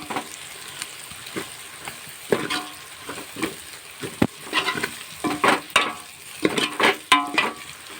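Chili powder stirred into a frying Gujarati bitter gourd curry, a close, continuous sizzle punctuated by brisk, irregular spoon scrapes and knocks against the pan, growing busier toward the end with no talking.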